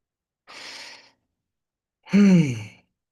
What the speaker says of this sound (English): I should take a deep breath